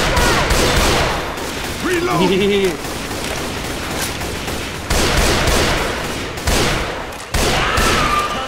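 Gunfire in the video game Left 4 Dead 2 comes in loud broadband bursts that start and stop abruptly, mixed with game sound effects while players shout over it.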